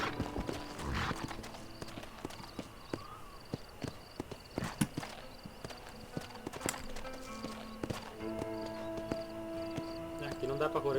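Horse hooves clip-clop in the Red Dead Redemption video game, an irregular walking gait of close, crisp hoofbeats with occasional snorts, while someone talks over it.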